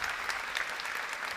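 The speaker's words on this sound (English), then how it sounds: "Maybe we can have a round of applause for Minister Bragi" An audience at the Paris Peace Forum applauds Minister Bragi, a brief, dense burst of steady clapping filling the hall without any talk.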